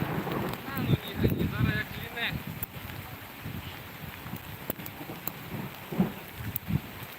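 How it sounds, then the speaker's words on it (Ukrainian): Rain falls outdoors at a damaged stadium with stands and benches, a steady hiss under wind buffeting the microphone, while someone speaks intermittently over it. "зараз дощ іде вже такий гарнюній"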